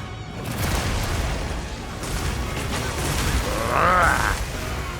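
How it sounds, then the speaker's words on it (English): Explosions in the video game Monster Hunter Wilds, a dense rumbling barrage of booms and bursts with mechanical clatter, building toward a louder hit near the end. "Ah, there's so much explosions."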